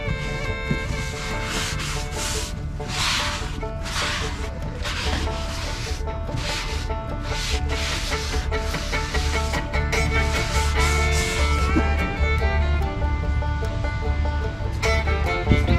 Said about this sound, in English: scrubbed it a few times with the Magic Eraser